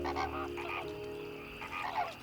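Flock of flamingos calling in a marsh, a dense chorus of nasal honking calls overlapping continuously at moderate distance, rising in two louder bursts.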